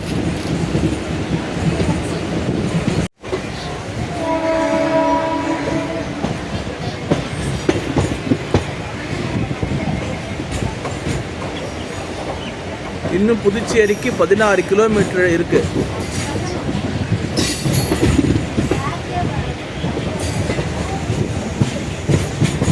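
Steady rumble and rattle of a MEMU passenger train rolling along rails between Villupuram and Puducherry, nearing Chinnababu Samudram station, continuous throughout, with someone speaking over it and a brief dropout early on.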